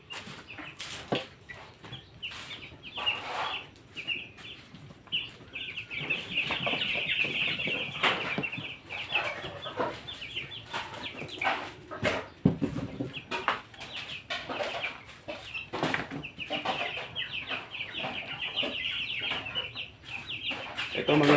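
Young chicks in a coop peep and cluck continuously at close range, a busy overlapping chorus with occasional wing flaps and rustling, no talking.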